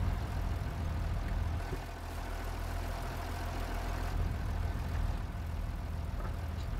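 A tractor engine idles in Farming Simulator 22, a steady low rumbling drone with a faint knocking pulse, continuous and moderately quiet with no talk over it.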